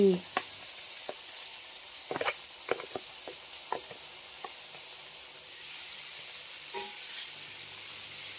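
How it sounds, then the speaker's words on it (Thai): Steady sizzling of fermented pork sausage and egg stir-frying in a hot Shimono Teflon electric pan, with sharp clinks and scrapes from a utensil stirring, loudest near the start. "เมนูแรกนะฮะที่จะทำสำหรับเจ้ากระทะนี้นะแหนมผัดไข่"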